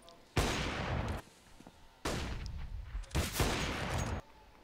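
Bursts of gunfire from a Counter-Strike match on the Train map, three loud volleys of rapid shots close together, with a commentator's voice over the action.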